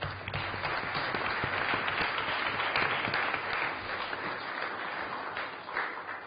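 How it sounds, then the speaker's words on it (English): At a Kirklees Council meeting, attendees applaud nurses awarded the Queen's Nurse title. Dense, continuous clapping from a sizable group fills the room at moderate loudness from start to finish. "So can we give them a round of applause?"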